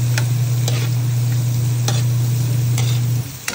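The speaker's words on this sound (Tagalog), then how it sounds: "Haluin po muna natin para lumasa yung bawang." Garlic and onion sizzle steadily in a hot pan while a utensil stirs and scrapes, with occasional sharp clinks against the pan over a constant frying hiss, close and fairly loud.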